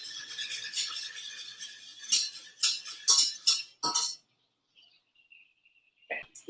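Butter sizzling in a pan as cookie mixture is stirred in, bursts of scraping and clinking from the stirring over a steady hiss, then the pan goes quiet with a faint sizzle and a couple of final clinks.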